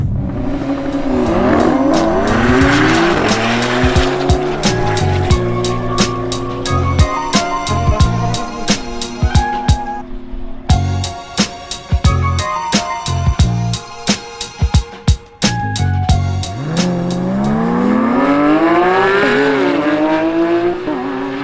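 A Stage 2 BMW F90 M5 tuned to about 800 bhp runs flat out at a VMAX200 top-speed event, its engine roaring loudly and continuously. It climbs through the gears with sharp rev drops at each upshift, then settles into a sustained high-speed drone.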